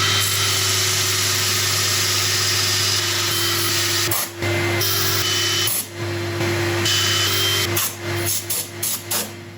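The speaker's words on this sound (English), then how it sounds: "Right, I'm going to start sanding." A wood lathe spins a resin turning piece while it is sanded, giving a constant motor hum with a steady tonal drone and a gritty hiss that dips briefly as the sanding pressure changes.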